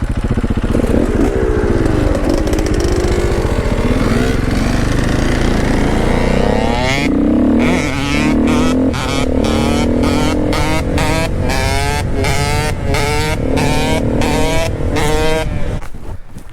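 A 2010 KTM EXC 125 two-stroke supermoto motorcycle revs hard and loud and close by, its engine pitch rising and falling through repeated throttle blips and gear changes. No one speaks.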